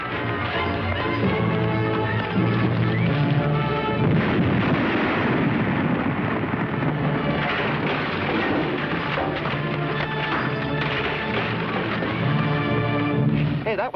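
Loud, sustained explosion and rumbling blast in a western TV show episode, a dense roar filling the whole stretch with debris-like crackle and no talk over it.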